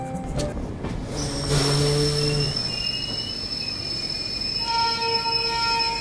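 An Indian Banaras Express passenger train near Nagpur braking to a halt after an emergency chain pull, loud metallic wheel squeals and shrill tonal screeches over a rolling rumble, up close.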